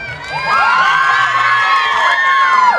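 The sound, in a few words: audience cheering and applauding Enzo Criscuolo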